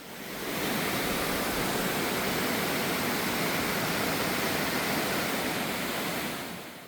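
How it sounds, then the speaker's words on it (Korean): A steady, heavy roar of rushing water fills the whole clip, broad and constant, from Guryong Falls, a huge waterfall pouring from a high mountain in Jirisan, heard up close. "높은 산꼭대기에서 쏟아지는 거대한 폭포가 등산객의 시선을 압도합니다."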